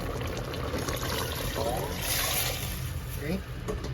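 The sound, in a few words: water poured into pot with beef Knorr cubes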